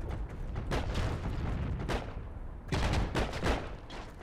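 Gunfire in the Heroes and Generals video game: repeated sharp shots and bursts in quick succession, loud and close, with a brief lull before another volley.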